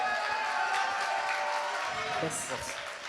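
Audience at a young talent concert applauding the performers, a moderate wash of clapping and crowd noise with a voice talking over it.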